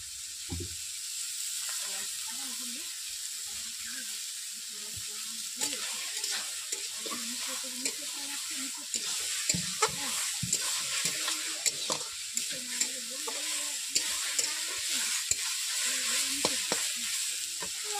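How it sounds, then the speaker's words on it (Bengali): Susni greens frying in mustard oil in a wok, a steady sizzle joined midway by repeated stirring scrapes and soft clatter, close up with no voices. "শাকগুলো ভাজা হয়ে এসছে, এরপর এখন আমি দিয়ে দিচ্ছি সরষের তেল।"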